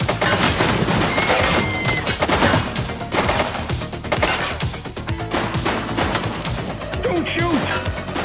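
Gunfire in The Precinct police video game, dense rapid shots and crashing impacts in continuous loud bursts with chaotic background action.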